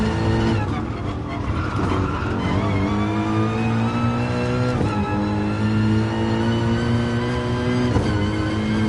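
A race car at the Nurburgring in GT Sport holds a loud, sustained engine note as it climbs and shifts, with tire squeal and skidding as the rear slides and is caught, and no voices over it.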